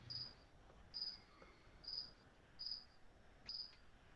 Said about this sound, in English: I have crickets.